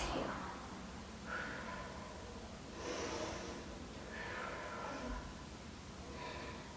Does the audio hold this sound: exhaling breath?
yes